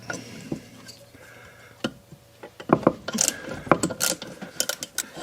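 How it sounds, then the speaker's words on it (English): A handheld ratchet driver with a 90-degree gearbox turns a fastener on a Briggs & Stratton engine being converted to an air compressor, producing sparse clicks at first, then rapid, loud ratcheting clicks and gear chatter in irregular bursts. "Handy little ratchet driver this, you can, it's got a 90-degree gearbox in there."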